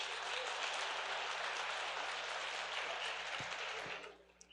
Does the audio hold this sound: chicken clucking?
no